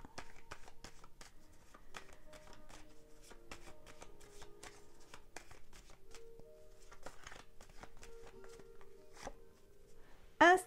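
Tarot cards being shuffled and drawn by hand, a long run of soft rapid riffling taps and slides, close and fairly quiet, ending with a brief louder handling noise.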